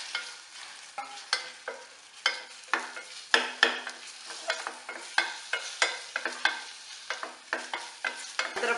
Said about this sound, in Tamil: இந்த கட் பண்ண பழத்தை போட்டு கொஞ்சம் வதக்கிடலாம்